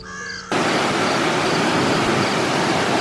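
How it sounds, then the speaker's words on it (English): Saddleback Falls, a waterfall, pours out a steady, dense roar of rushing water that cuts in abruptly after a brief quieter moment and then holds at an even, loud level. "So this is Saddleback Falls."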